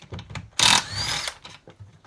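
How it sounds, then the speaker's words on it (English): Tool working on the tail cap bolts of a Type 9 gearbox, with a burst of harsh rattling mechanical noise between quieter metallic clicks and ratcheting. "Now we can undo the tail cap."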